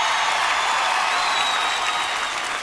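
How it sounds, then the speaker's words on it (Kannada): Dense, sustained applause from a large crowd of fans at a Kannada celebrity celebration event for actor Darshan, steady and loud throughout with no talk over it. "ಅಭಿಮಾನಿಗಳು ನಿಜವಾಗ್ಲೂ ದೊಡ್ಡ ಚಪ್ಪಾಳೆ ಕೊಡ್ಬೇಕು ಪ್ಲೀಸ್"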